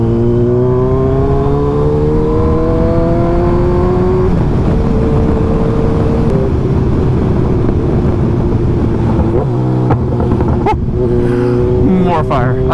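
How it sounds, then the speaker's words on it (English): A motorcycle engine drones loudly and rises in pitch through a gear, then drops on a downshift with crackling exhaust pops near the end, while a rider talks over it. "Just sit here, go up a gear, downshift fire."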